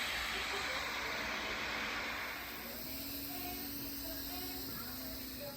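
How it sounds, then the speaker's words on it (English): Steam hisses steadily from the pressure release valve of an Instant Pot cooking hard boiled eggs, a loud broad rushing that eases slightly and continues throughout. "push pretty hard and twist it, and you can see the steam come out"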